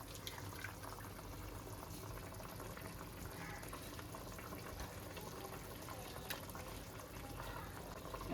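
Second coconut milk simmering in a pot of chicken stew, a steady dense bubbling and liquid hiss that carries evenly and fairly loud throughout with no voices.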